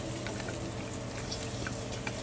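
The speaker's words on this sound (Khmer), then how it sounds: "កូរច្បល់សាច់" Pork with soup powder, sugar and seasonings stirred in a pan while frying for a Khmer braised pork leg dish with taro, giving a steady sizzle with scattered scraping and stirring clicks, close and continuous, with no talk.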